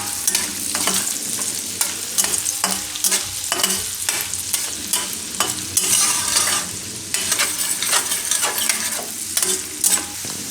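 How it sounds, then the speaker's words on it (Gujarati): Chopped onion frying in oil in a pan for cheese broccoli fried rice, with a steady loud sizzle and repeated scraping strokes of a spatula stirring throughout, no talking. "તો ડુંગળીને થોડીક વાર પકાવી લઈશું આમાં."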